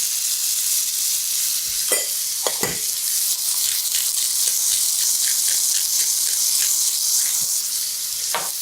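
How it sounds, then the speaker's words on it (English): Pork chops searing in a hot pan, a loud continuous close sizzle and crackle with occasional brief pops and spits throughout. "we're really just going to sear these and let them get a little bit of crust on"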